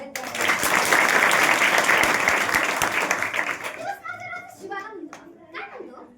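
An audience claps in a burst of applause, dense and loud for about four seconds before fading, followed by a voice speaking.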